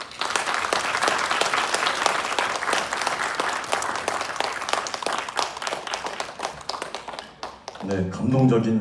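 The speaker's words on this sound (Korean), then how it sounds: "다시 한번 따뜻한 박수 부탁드리겠습니다" An audience at a memorial ceremony for a Korean independence general breaks into sustained, dense applause after a musical performance, steady clapping filling most of the time before a voice begins speaking near the end.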